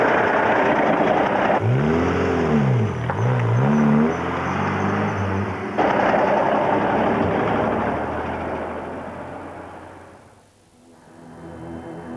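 A car engine revs with rising and falling pitch, then pulls away and steadily fades into the distance, leaving a quieter background at the end.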